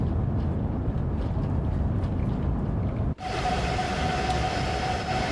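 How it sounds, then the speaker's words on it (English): Train interior sounds from the video game Train Sim World 3: a continuous rumbling ride noise that shifts abruptly partway through to a brighter, hissing cab sound with a steady whine, and no voices. "now you can hear the sounds inside the train much better"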